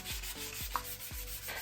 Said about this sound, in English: Now I'm just scuff sanding the bottom part